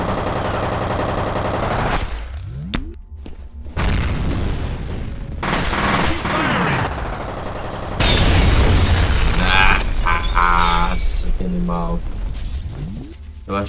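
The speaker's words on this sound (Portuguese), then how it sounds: "Demais a explosão dessa granada." A grenade explodes in the shooter game F.E.A.R., with heavy booming blasts and crackling debris mixed with bursts of gunfire, loud and close, in several separate surges.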